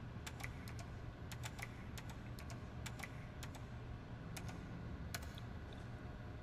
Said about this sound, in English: What you typing?